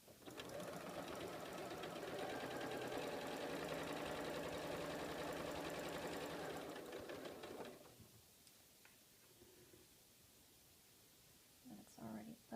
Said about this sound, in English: So let's sew this one.